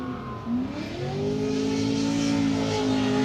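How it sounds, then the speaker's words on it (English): A Corvette race car heads onto the track for a sighting lap at a 2018 Texas qualifying session, its loud engine note climbing steadily as it accelerates, with no talking. "the Wish Falcon Tire Corvette of Matt Field hits the track for his sighting lap"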